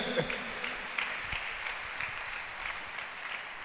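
A church congregation claps together in praise of the Lord, steady fairly close applause with some crowd voices beneath it.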